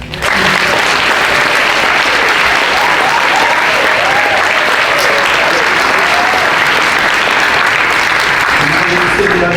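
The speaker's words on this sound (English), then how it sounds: "So we want to give them a big round of applause." A crowd at a community event in Oakland, California gives a big round of applause, loud continuous clapping filling the whole stretch, with faint voices mixed in.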